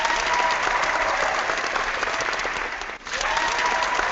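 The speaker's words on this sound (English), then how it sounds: "Meanwhile, the crowd was absolutely going bananas" A large crowd cheers and applauds as a story sound effect, a dense continuous roar of clapping and shouting that briefly dips near the end before surging back.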